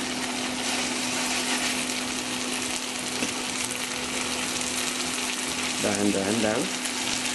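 Green beans and pork fry in a pan while being stirred, a steady crackling sizzle close up, with a brief spoken remark near the end over the frying.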